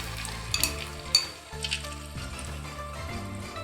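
Scrambled egg and shrimp mixture sizzling in a hot oiled pan, a steady frying crackle with a few sharper pops and a clink partway through.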